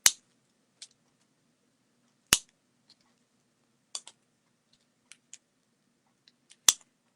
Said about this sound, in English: tighten them up and then just cut them off